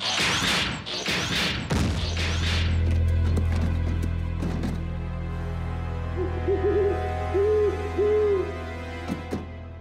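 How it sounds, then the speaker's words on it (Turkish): An owl in a Transformers Rescue Bots cartoon hoots a few soft, repeated times in the latter half, over a low droning background with earlier crashes and thumps. "Belki de bir baykuştur."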